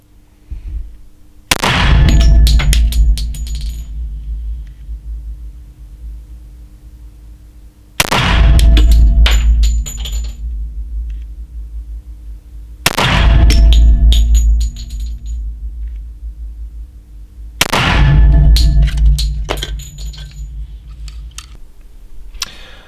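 Four loud, separate shots from a Benjamin Bulldog 457 air rifle fired at a target 20 metres away, each a sharp crack with a ringing, slowly fading tail, spaced several seconds apart.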